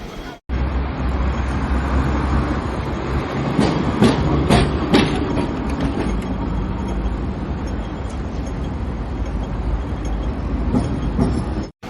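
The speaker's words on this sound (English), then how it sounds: "There's this Coca-Cola tram as well," A Hong Kong tram painted in Coca-Cola livery rolls past on its street rails, a sustained rumble with rhythmic clacking from the wheels over city traffic noise.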